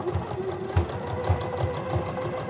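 A sewing machine runs a steady stitching pass along a blouse seam through eyelet fabric, its motor humming with a rhythmic mechanical knock close up and no talk.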